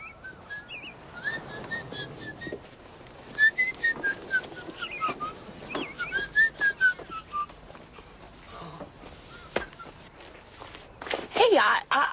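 A person whistles a wandering tune while footsteps tap along underneath, fairly quiet and close, with a few louder scuffs near the end.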